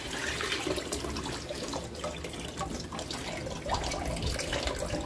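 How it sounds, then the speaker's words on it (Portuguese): Soaking water drains and splashes out of a pot of beef feet being prepared for mocotó, a steady close pouring and trickling sound with no talk. "Agora eu vou escorrer essa água."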